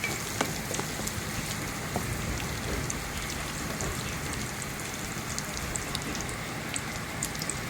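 Chopped onions fry in oil in a pan, giving a soft, continuous crackling sizzle with scattered small pops, fairly quiet and without any talking.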